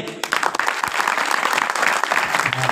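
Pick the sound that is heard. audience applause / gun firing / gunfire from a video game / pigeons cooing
audience applause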